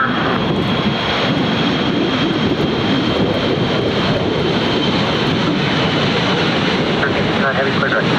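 A fixed-wing airliner takes off at Ontario International Airport, its engines roaring loud and steady throughout, broadband and unbroken, with faint radio chatter underneath.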